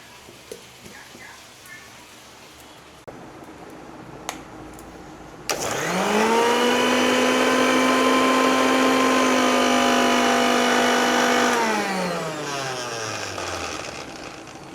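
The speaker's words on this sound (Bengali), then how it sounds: "এক আঁটি ধনিয়া পাতা, এটাকে আমি এবারে মিক্সিতে পেস্ট করে আনবো।" A kitchen mixer grinder spins up sharply and whirs loudly for about six seconds while blending a bunch of coriander leaves into paste, then winds down, with faint room noise and handling knocks before it starts.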